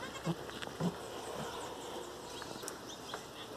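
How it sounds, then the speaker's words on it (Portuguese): Three newborn goat kids giving a few soft, short bleats at a farm, faint and scattered against a quiet outdoor background. "Três cabritinhos, acabou de nascer, olha."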